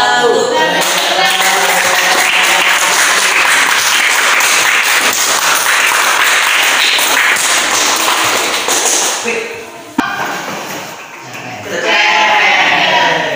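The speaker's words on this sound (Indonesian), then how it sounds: "kita berikan tepuk tangan" Applause from an audience after a classroom drama performance, dense clapping sustained for about nine seconds, dipping briefly near the end before swelling again, with some voices mixed in.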